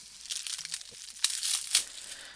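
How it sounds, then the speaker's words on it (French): Plastic wrap is peeled and crinkled off a Blu-ray case in a few quick, close crackling bursts, quiet and with no speech. "Je vais prendre le temps de le déballer pour vous montrer l'intérieur du boîtier."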